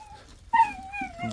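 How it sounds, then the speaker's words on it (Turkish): Stray dog giving a brief high whine or whimper, a single thin wavering cry over about a second, faint and close. "Bir de yeni sokak köpeğimiz."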